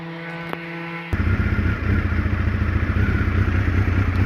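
A Honda 600 motorcycle engine idles steadily at around 1000 rpm, loud and close, with a smooth, even rumble. It kicks in after about a second of quieter mechanical hum.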